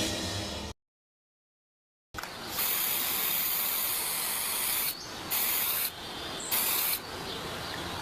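Spray paint can hissing in a Turkish television advert, a steady broad hiss lasting several seconds after a brief silence, with a few short bursts and interruptions near the end, no talk.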